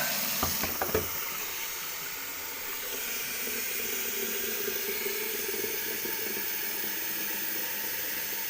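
Cold water runs steadily from a kitchen tap for several seconds, a continuous close hiss and splash after a couple of brief clinks at the start, with no voices.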